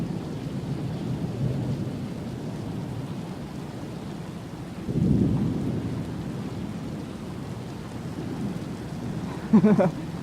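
Thunderstorm with monsoon rain: steady rain hiss throughout, a low rolling thunder rumble swelling around the middle, and a brief sharper crackle near the end, heard fairly close with no talk.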